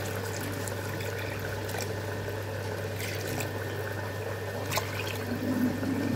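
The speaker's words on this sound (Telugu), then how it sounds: "వాటర్ పోసుకుంటున్నాను." Water poured into a cooking pot of simmering dried palmyra sprout curry makes a soft, continuous liquid rush under a low steady hum, with faint splashes and no voices.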